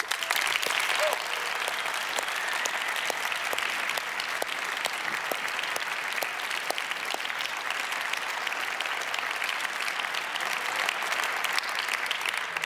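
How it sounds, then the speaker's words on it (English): An audience at a violin competition prize ceremony applauds steadily for over twelve seconds, a broad wash of clapping with individual claps standing out near the microphone. "he deserves a round of applause"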